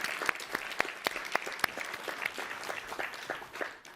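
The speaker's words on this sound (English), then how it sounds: "I also love that in a live taping, people just start clapping." Live studio audience clapping at a radio show taping about Bay Area cheese, a dense run of claps with a few sharp distinct hits, steady for several seconds and tapering at the end.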